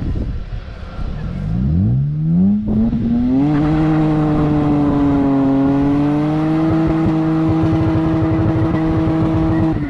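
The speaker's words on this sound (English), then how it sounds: "he has his supercharger installed now" A supercharged Lexus IS200 Altezza engine, controlled by a Speeduino ECU, revs up loud and close, climbing quickly and then holding a steady high drone with no talk.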